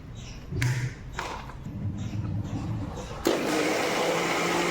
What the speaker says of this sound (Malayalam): ഇനി കുറച്ച് അരിയും ഉഴുന്നും ഇരിക്കുന്നത് നമുക്ക് അരച്ച് റെഡിയാക്കി വെക്കാം കേട്ടോ.